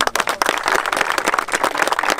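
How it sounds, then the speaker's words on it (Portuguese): Applause from a small group after a football tryout on a grass field, dense, steady clapping that runs the whole time, fairly close, with a few faint voices mixed in. "Primeiramente, palmas pra vocês."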